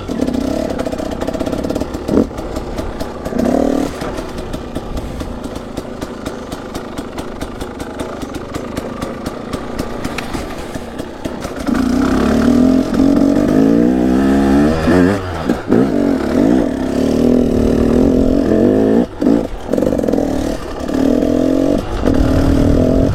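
A rebuilt KTM 250 two-stroke motorcycle engine warms up after its coolant is bled, idling steadily nearby and then rising to a louder, busier run with blips of revving, no talk.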